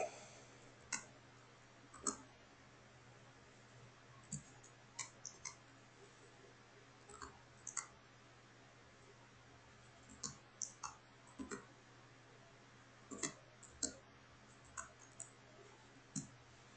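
Keys are typed on a computer keyboard while setting up a Windows 98 emulator, with faint, sparse, irregular clicks spread over a quiet, humming room and no talk.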